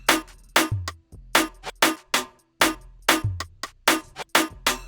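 Snares and assorted percussion loop together in an electronic moombahton beat, sharp bright hits repeating in a tight syncopated pattern with short decaying tails and brief silent gaps, loud and clean with no voices.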